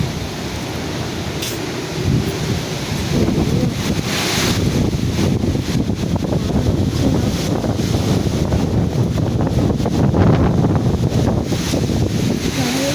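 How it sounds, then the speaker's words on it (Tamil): Strong, gusty storm wind with rain roars and buffets the microphone continuously, loud and close, with no talking. "செம புயல் காத்துங்க."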